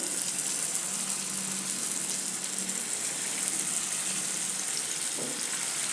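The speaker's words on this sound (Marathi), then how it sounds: "तेल गरम झालं आहे आता आपण याच्यात हे तळून घेऊया" A raw potato breakfast mixture fries in a pan of hot oil, producing a steady, close, even sizzle with no talking.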